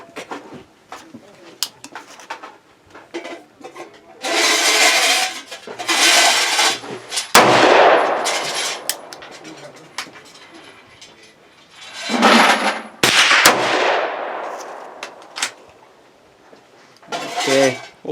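Two sharp, loud shots from a Bond Arms Roughneck .357 derringer firing 158 grain jacketed rounds, about five seconds apart, each with a decaying tail, amid scattered handling noises.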